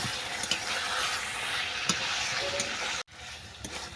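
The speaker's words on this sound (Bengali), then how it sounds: "এটাতে আমি আর ঢাকা দেবো না, এইভাবেই ভালো করে কষিয়ে নেব।" Chicken stir-fried uncovered in its released oil for Bengali pata chicken gives a steady close frying sizzle with occasional stirring scrapes. It stops abruptly partway through, then resumes more quietly.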